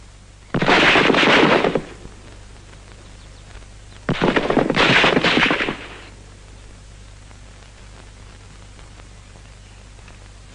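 Two sharp, loud bursts of rifle gunfire from a 1959 Bundeswehr firing drill, a few seconds apart, each a quick ragged volley of overlapping shots, with quiet hiss between and after.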